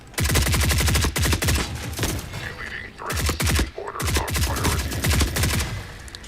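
Rapid automatic gunfire in the Forever Winter game comes in several loud, close bursts of evenly spaced shots, separated by short pauses, with faint game sounds in the gaps.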